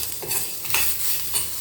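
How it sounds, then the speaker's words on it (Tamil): Onions sizzle gently in a pan over a low flame while a spoon stirs them in a few soft scrapes, close and steady with no voices. "இந்த டைமில் நம்ம வெங்காயத்தை போட்டுப்போம்."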